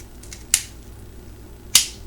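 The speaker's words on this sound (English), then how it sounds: "So, did a nice good crown cut in it." Cigar cutter snapping through the cap of an Undercrown Maduro cigar for a crown cut, with two sharp, close clicks about a second apart against a quiet background.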